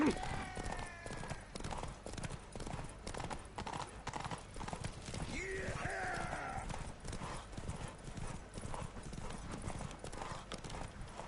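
Horse hooves clip-clop in a steady rapid rhythm from the horse Roach in the video game Witcher 3 The Wild Hunt on PS4, with a brief whinny partway through and someone talking over the hoofbeats.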